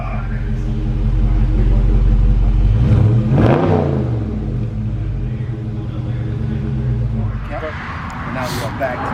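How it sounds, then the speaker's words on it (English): A Dodge Charger's exhaust rumbles at idle, then gives one quick rev that climbs and falls back to a deep, loud burble close by. A voice can be heard over it near the end. "Give it a quick rev."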